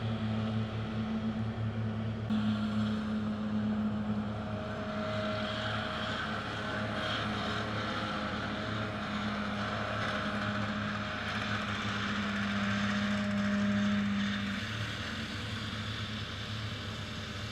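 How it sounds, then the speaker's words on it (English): Steady engine drone of tractors and mowers running continuously in a field during silage cutting, a low hum with wavering higher tones as engines shift pitch, no talking. "I have no idea why there are so many tractors and mowers in my field"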